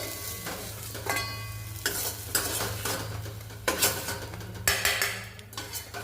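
Sautéed onion being scraped and stirred out of a hot pan for Kolhapuri chicken, with several distinct scraping strokes and light sizzling over a steady low hum, no talking.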